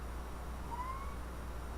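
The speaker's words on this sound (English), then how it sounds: "Shut up, cat." A house cat gives a single short, thin meow at moderate distance, rising slightly in pitch, over a steady low background hum in a room where someone is gaming.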